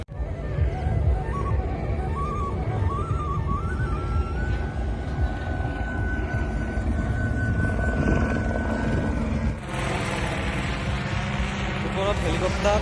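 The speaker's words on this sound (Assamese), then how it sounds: "হেলিকপ্টাৰ চলি আছে" Helicopter flying overhead at a festival, a steady loud droning rumble lasting throughout, mixed with crowd noise and nearby speech.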